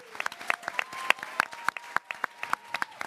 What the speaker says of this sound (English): Please join me in giving everyone a round of applause.